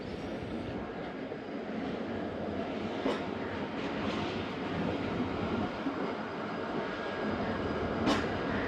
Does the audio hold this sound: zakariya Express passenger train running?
yes